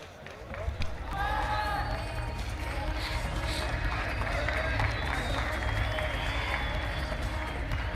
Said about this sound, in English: Nice to hear the applause, even though the local athlete did lose that battle.